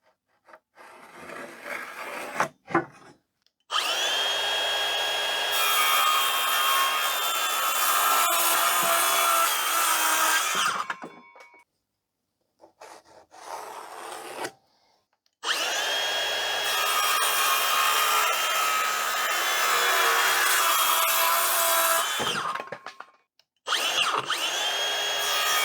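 Power tools working a vintage timber piece for a cat/possum travel cage: two long, loud bursts of drilling or sawing into wood, each about seven seconds, separated by short pauses with brief handling noises.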